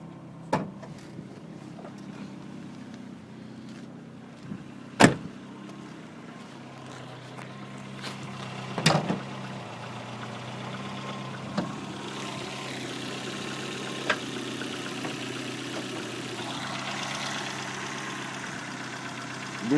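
An Opel Corsa C20XE car engine idles with a low, steady rumble, broken by a few sharp clicks and knocks; a brief rev-like rise comes partway through.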